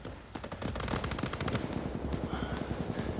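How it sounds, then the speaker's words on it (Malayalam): Continuous gunfire from the mobile shooter game Delta Force Mobile: a rapid automatic burst crackles, followed by further irregular shots, all moderately loud with nobody talking. "കണ്ടിന്യൂസ് ഷോട്ടൊക്കെ കേൾക്കുന്നുണ്ടോ?"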